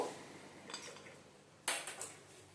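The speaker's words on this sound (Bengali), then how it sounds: "ঢাকনাটা আমি খুলে দিলাম।" Metal lid taken off a cooking pot while making mutton biryani, quiet clanks and a sharper metallic clatter partway through, close and faint.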